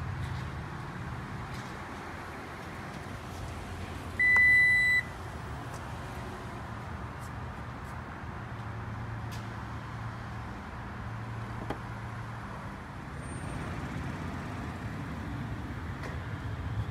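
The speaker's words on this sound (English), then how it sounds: "With the key fob on us, we can remotely open the tailgate of our vehicle." A 2020 Lexus RX450h hybrid gives a single steady electronic beep as its tailgate is opened remotely by key fob, followed by a low power-liftgate motor hum over faint outdoor ambience.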